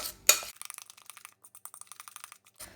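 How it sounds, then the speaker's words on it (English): A spoon stirs thick banana muffin batter too much in a bowl, giving a quick series of soft, wet clicks and scrapes at close range after a sharp initial knock. "So look what happens when I stir too much."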